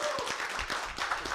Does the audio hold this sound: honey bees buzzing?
no